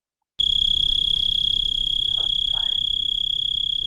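A four-spotted tree cricket, Oecanthus quadripunctatus, of oak trees in late summer, gives a loud, unbroken high trill that starts abruptly and holds steady throughout, close by, with faint low background rumble.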